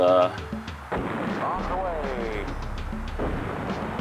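Bombs explode on an airfield in the Fighters Anthology flight game, with a deep booming blast followed by a sustained rumble, while someone talks over it.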